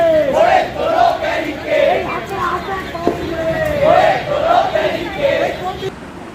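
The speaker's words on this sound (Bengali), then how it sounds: "তারা কিন্তু স্লোগানে স্লোগানে ভরিয়ে দিয়েছিল কলেজ স্ট্রিটের" SFI student protesters chant slogans in unison on College Street, Kolkata, during a street demonstration with burning tyres; a loud crowd of voices repeats rhythmic call-and-response phrases throughout.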